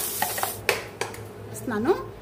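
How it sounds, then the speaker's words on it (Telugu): Masala paste for an egg masala curry is scraped from a mixer jar into a pan, heard as a few sharp metallic clinks and scrapes of a spoon against the jar and pan, close by. "జార్ పట్టుకున్న ఈ మసాలా పేస్ట్ అంతా కూడా దీంట్లో యాడ్ చేసేసుకోవాలి"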